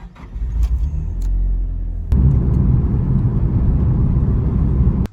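A car's engine and tires make a steady low rumble from inside the cabin, with a sharp click partway through and a fuller, louder road drone after it, cutting off abruptly at the end.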